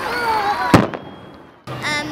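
Fireworks at a downtown evening celebration pop and burst once sharply, then a fainter report follows, over a steady crowd murmur with children's voices nearby.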